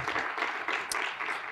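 A conference audience applauds steadily for the whole clip, a dense, even clatter of many hands at moderate distance.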